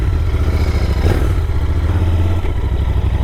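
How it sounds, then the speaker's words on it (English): A Royal Enfield Continental GT 650 motorcycle engine rumbles steadily with a faint whistle from the exhaust and a low, throaty grunt underneath, close and continuous. "There's a slight whistling sound from the exhaust, as well as that grunt sound."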